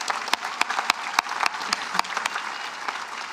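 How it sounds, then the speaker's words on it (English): A large crowd applauds at a high school graduation ceremony as the class receives diplomas, dense sustained clapping with sharper individual claps standing out, loud and continuous from start to finish. "Yeah, that's worth an applause."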